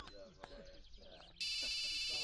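Voices and movement, then a loud electronic phone ring cuts in abruptly and holds steady to the end.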